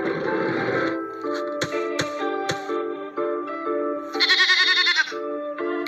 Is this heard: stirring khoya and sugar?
no